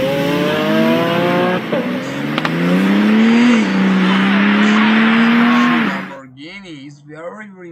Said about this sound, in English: Now, please see Lamborghini crazy acceleration.